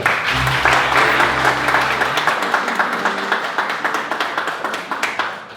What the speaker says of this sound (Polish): Wielkie brawa dla Zbyszka!